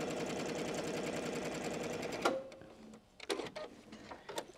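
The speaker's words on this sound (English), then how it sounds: "I'm going to back stitch a little bit to lock those stitches and then sew the seam." Sewing machine stitching a seam on fabric, a fast, even mechanical rattle running for about two seconds before stopping, followed by a few small clicks and handling sounds, close and fairly quiet with no talking.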